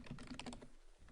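Quick, steady keystrokes on a computer keyboard while editing a PB Wiki page, soft and close, with no talking.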